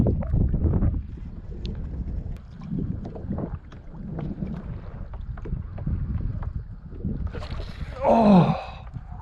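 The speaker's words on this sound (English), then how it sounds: "Got a lot of wind right here." Strong wind gusts buffet the microphone outdoors during a bass fishing trip from a kayak in windy conditions, a steady rumbling roar with a brief gasp-like burst near the end.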